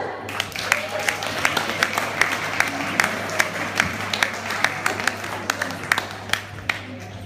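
A comedy show audience claps steadily, the sharp claps of many hands forming a continuous wash of applause near and loud, with some voices underneath.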